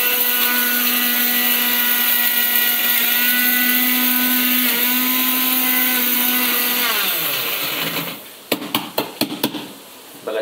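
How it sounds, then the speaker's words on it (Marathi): A kitchen mixer grinder whirs loudly and steadily while blending salt and red chilli, its motor pitch dropping as it winds down, followed by several sharp knocks and rattles. "आता हे मिक्सर लावलेलं आहे"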